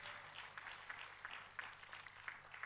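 Applause from a church congregation after a sermon, a dense, fairly distant patter of many hands with a few sharper claps standing out, no voices over it.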